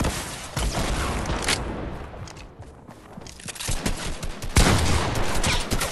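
Dense Fortnite gunfire fills the scene, with rapid overlapping shots and bursts from several weapons cracking near and loud, easing briefly in the middle before swelling again into heavy sustained fire.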